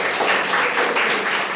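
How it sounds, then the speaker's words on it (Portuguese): Congregation applauding in a church service, a dense, steady wash of clapping from many hands lasting throughout, fairly loud and with no voices standing out. "Dá um aplauso aí bem forte para o Senhor."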